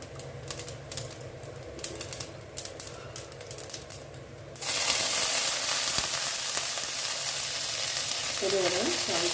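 Cumin, fenugreek and fennel seeds dropped into hot oil: light clicking at first, then a sudden loud, sustained sizzle that keeps crackling, with a brief voice near the end.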